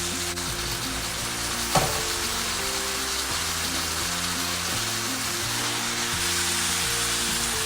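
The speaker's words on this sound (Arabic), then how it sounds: "بس ما يتقلاو التوابل برك شويه برك" Spices for chicken biryani fry in a pan with a continuous, close hiss and crackle, under a steady musical backing and a single sharp clink partway through.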